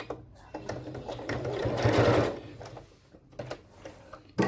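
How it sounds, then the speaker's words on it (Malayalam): A sewing machine stitching a makeup pouch along a drawn line, a steady whirring run of stitches that swells in the middle and then stops, with a few clicks and handling noises around it. "ആ വരച്ച സെയിം വരയിലൂടെ തന്നെ തയ്ച്ചെടുക്കുക"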